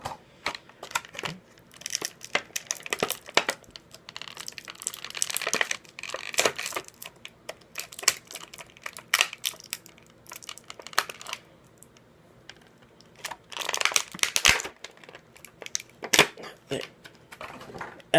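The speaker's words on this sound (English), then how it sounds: "now let's take this out of the package" Plastic packaging crinkles and crackles as a Star Wars Black Series R2-D2 toy is pulled from its package, with irregular bursts of rustling, small clicks and taps, and quiet gaps between them.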